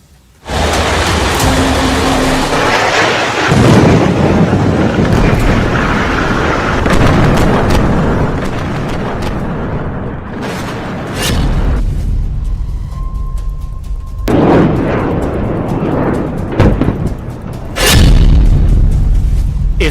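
Booming blasts from Israeli army strikes on Hezbollah targets in southern Lebanon, loud and dense with heavy low rumble, sharp bursts and sustained roaring noise across the span.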